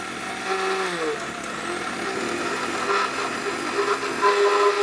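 A 1200-watt electric blender grinds cumin and other spices, a loud, steady whirring motor whine with a shifting pitch that runs without pause and no talk.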